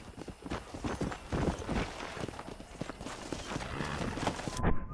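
A war horse in Red Dead Redemption trots with steady clip-clopping hooves, close and fairly loud, the rhythmic beats continuing throughout over faint background ambience.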